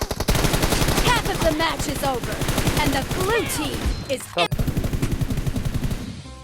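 Pistol gunfire in the PUBG Mobile video game, a dense run of rapid, loud, sharp shots, with a voice talking over the shooting.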